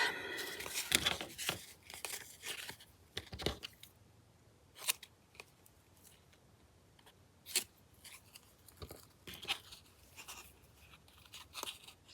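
Scissors snip through cheesecloth in a run of short, crisp cuts spaced across the stretch, close and fairly quiet, with no talking.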